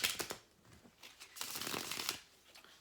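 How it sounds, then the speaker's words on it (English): Soft, close riffling and flicking of a tarot card deck being shuffled, in quick bursts of fluttering card noise. "when I'm shuffling my cards"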